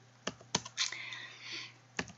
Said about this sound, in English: So what I can do is just start typing some numbers in.